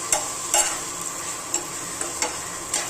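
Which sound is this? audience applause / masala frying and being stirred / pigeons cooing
masala frying and being stirred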